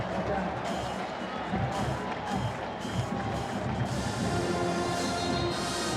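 A stadium crowd at a college football game between NC State and Florida State roars in a steady, dense swell, loud and continuous throughout with a broad wash of cheering and noise.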